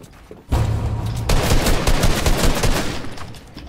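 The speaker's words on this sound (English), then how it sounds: "How did none of those shots hit?" Rapid gunshots in the Fortnite video game crack out in a dense, loud volley that starts abruptly after a quiet moment and continues steadily to the end, with no talk over it.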